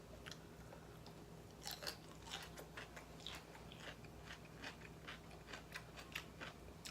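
Someone eating seasoned cucumber salad at home, with quiet, close crunchy bites and chewing clicks coming in an irregular series.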